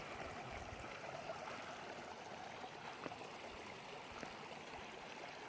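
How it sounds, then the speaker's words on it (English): Fresh water flowing at the bottom of a spring outdoors, a steady close-up stream trickling and gurgling continuously with no talking. "So we made it to the spring."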